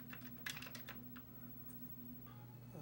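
Keys clatter on a Commodore 64 keyboard in a short, quick burst of taps, faint against a steady electrical hum, followed by a few isolated clicks.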